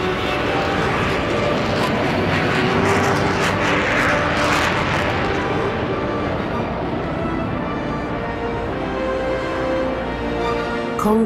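Concorde, the supersonic airliner, roars on the runway at full throttle with reheat, a loud, sustained, broadband engine thunder that stays powerful throughout and eases only slightly toward the end.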